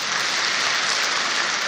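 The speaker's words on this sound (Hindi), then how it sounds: "ताली बजाओ इनके लिए" An audience clapping together in a hall, a dense continuous burst of applause at steady volume, short and with no voices over it.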